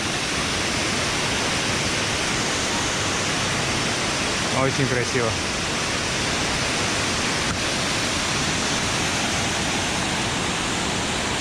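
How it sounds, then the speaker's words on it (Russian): Silima-Lima waterfall in North Sumatra roars as a steady, dense broadband rush throughout, loud and continuous, with a brief spoken remark partway through. "водопад."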